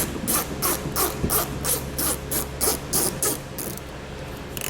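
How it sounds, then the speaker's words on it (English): Ratchet loosening bolts under a 2016 Volvo while fitting a Stealth Hitches hidden rack receiver, a rapid series of about a dozen crisp metallic clicks in an even rhythm, close and clear. "it's easier just to switch to a ratchet"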